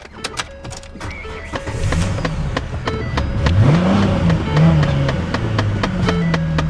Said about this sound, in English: Let's hear the noise.